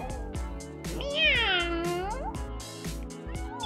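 Several cartoon cats meow in a Toca Boca mobile game, a string of short, close mews with one longer wavering meow in the middle, set over light game background sounds.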